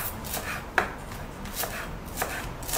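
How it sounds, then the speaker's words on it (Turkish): A knife taps rhythmically against a cutting board, chopping fresh herbs for baked sea bass in quick, even strokes close up, with no talking. "Bunları küçük küçük doğrayalım."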